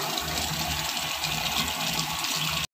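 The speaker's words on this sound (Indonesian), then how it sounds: "Masukkan air, cuci-cuci." Water running steadily into a pot of rice being washed, a continuous close rushing gush with a low rumbling undertone that stops abruptly at the end.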